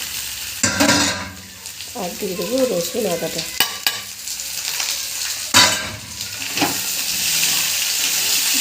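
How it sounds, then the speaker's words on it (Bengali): Onions, green chilli, potato and tomato sizzle steadily in a pan for a Bengali egg curry, with repeated scraping stirs and clatter throughout, while a voice talks briefly near the start. "লঙ্কা, পেঁয়াজ কুচিগুলো দিয়ে দেবো, দিয়ে আমি হালকা করে ভেজে নেবো"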